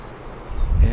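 Honey bees hum around a hive during a swarm capture, a soft, diffuse buzz that swells into a louder, low rumble near the end of the second.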